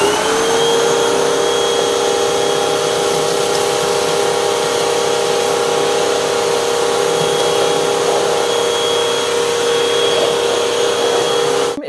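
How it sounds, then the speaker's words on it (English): A Hoover T-Series WindTunnel Rewind Plus upright vacuum cleaner sucks up crushed crackers from the floor, a loud, steady motor whine and airy roar running alone and unbroken throughout. "So now I'm gonna do the crumpled cracker test to show you the power that this vacuum has."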